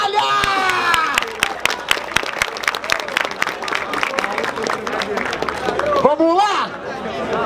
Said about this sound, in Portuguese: E aí, família, palmas pra essa batalha!